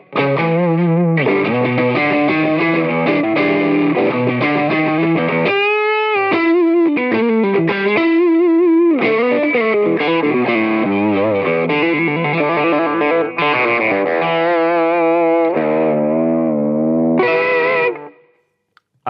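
Electric guitar through an El Macumba overdrive pedal, played as a continuous, gritty run of sustained notes and bends, loud and close throughout, cutting off near the end with no talk.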